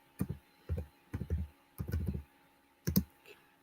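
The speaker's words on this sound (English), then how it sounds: "It's me typing." Computer keyboard typing, faint and close, in several short bursts of quick clicking keystrokes with brief pauses between them.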